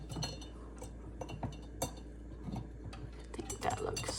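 Small Dollar Tree spatulas being set into a container on a coffee station, a series of light clinks and ticks, close and quiet, with no talking.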